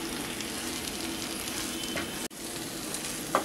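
Kerala egg roast frying in a pan, a steady close sizzle with soft scraping stirs and a brief interruption midway.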